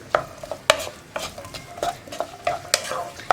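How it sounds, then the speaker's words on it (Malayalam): Onions sautéing in a pan for egg Manchurian, stirred with repeated quick scraping and clinking strokes of a utensil against the pan over a light sizzle, close and clear. "ഇനി ഈ സവോളയൊന്ന് ട്രാൻസ്പെറൻ്റായി വരുന്നത് വരെ ഇളക്കി കൊടുക്കുക."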